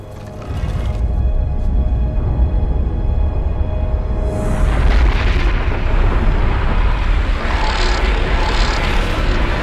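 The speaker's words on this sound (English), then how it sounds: "Fire the weapon." Heavy sci-fi ship weapon blast from the Stargate SG-1 Dakara attack: a loud, sustained roaring discharge with rumbling low end that swells midway and holds, no voices over it.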